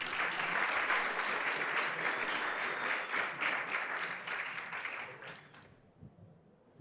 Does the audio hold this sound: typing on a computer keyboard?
no